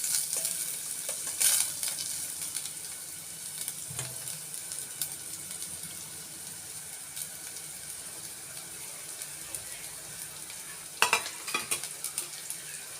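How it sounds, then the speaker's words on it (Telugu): Onions frying in a pan for a mixed vegetable soup, a steady low sizzle throughout with occasional stirring scrapes and clinks, fairly quiet and close, no talk. "అలాగే ఉల్లిపాయలు వేసాను. ఇవి కొంచెం వేగిన తర్వాత"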